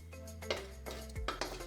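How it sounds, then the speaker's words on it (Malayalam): Cardamom pods being dry-roasted in a pan for a traditional Kerala Ayurvedic medicinal ladoo, with metal clinks and scraping of a utensil against the pan, a few short knocks over a steady low hum. "ഇനി നമുക്ക് ഏലക്കായ വറുത്തെടുക്കാം."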